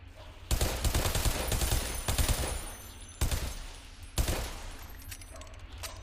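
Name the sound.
gunfire from an enemy shooting in the video game Bodycount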